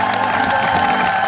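A studio audience applauds a contest winner on a Korean variety show, with steady, dense clapping mixed with cheers and whoops, loud and close throughout.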